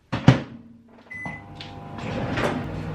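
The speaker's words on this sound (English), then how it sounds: "I'm going to put this in the microwave for about a minute" A microwave oven hums steadily at close range, preceded by a thump and a brief electronic beep, with faint clattering nearby.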